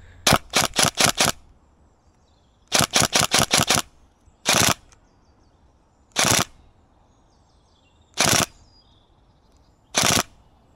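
A Tokyo Marui MP5 NGRS airsoft gun shooting BBs at 0.75 joules fires two quick bursts of about five sharp clacks each, then four single shots spaced about two seconds apart, close and crisp with no talking.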